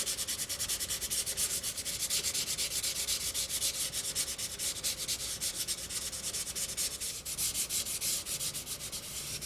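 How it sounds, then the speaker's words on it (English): A Moebius Models 2001 EVA pod kit part is sanded by hand, producing a steady, close, gritty rasp of rapid back-and-forth strokes that runs unbroken throughout with no talking. "it sands away so nicely."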